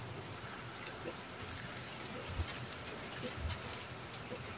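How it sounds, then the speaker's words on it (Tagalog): Steady outdoor rain hisses evenly throughout, a soft continuous wash with a couple of faint low thumps and no talking. "at maulan po ngayon"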